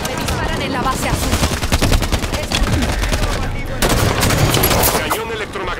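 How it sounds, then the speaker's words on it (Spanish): Rapid automatic gunfire in the Halo 5: Guardians multiplayer game, with dense continuous bursts of shots filling the whole stretch, loud and close, with game effects layered in. "Me disparan en la base azul."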